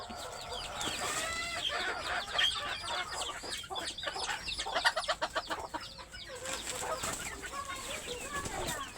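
A flock of chickens just let out, clucking and calling over one another in a busy, continuous stream close by, with no talking.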